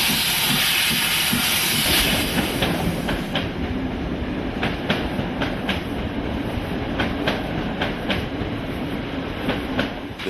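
A steam locomotive runs on the Mariembourg–Treignes railway line in Belgium, with a loud, continuous steam hiss and a rumble under regular clicks of wheels over rail joints, close by throughout.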